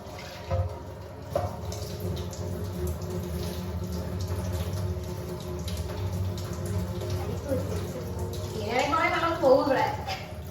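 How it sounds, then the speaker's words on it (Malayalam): Water is poured into a mix during home cooking of a Kerala rice-and-curry dish, a splashing, gurgling pour that rises near the end, with voices talking throughout. "ഇതിൻ്റെ കൂടെ ഇങ്ങനെ വെള്ളം ഒഴിക്കാം."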